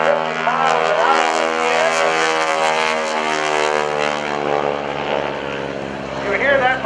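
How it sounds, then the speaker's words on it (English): An aerobatic propeller airplane snap-rolls at the 2014 NAS Oceana Airshow, its engine a loud, continuous droning roar with rising and falling pitch sweeps as the plane maneuvers overhead. "You hear that propeller snapping into the air. Just snap roll the airplane."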